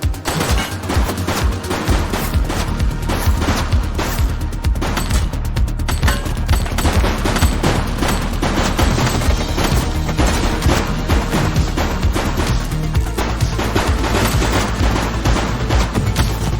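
Gunfire in The Precinct, a police sandbox game: dense, rapid bursts of automatic shots and crashing impacts hammer on loudly and nearly nonstop for over fifteen seconds.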